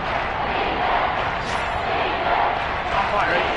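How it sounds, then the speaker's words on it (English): A football stadium crowd roars steadily through a big third-down moment, a dense continuous wash of cheering and shouting that stays loud and even throughout. "the crowd getting into it as we come up on a big 3rd down"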